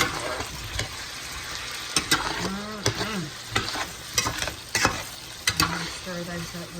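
A spatula stirs onions and potatoes frying in a skillet: repeated sharp scrapes and knocks over a steady sizzle, close up, with a few faint tonal sounds in the background and no talking.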